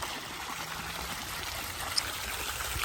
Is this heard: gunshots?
no